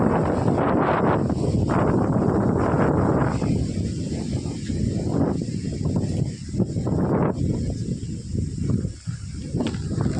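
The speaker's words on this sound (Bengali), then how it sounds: "প্রচণ্ড হাওয়া দিচ্ছে" Strong wind buffets the microphone in a continuous loud roar, with gusts that swell and ease throughout.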